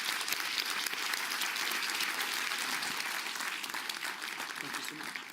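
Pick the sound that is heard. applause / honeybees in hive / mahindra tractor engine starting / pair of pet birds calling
applause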